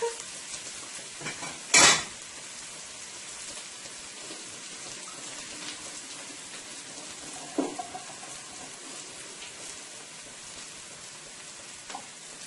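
Potatoes frying in a pot with onion and garlic, a broad, rain-like hiss of hot oil running steadily, with one sharp clatter early on and a few faint knocks later, no speech.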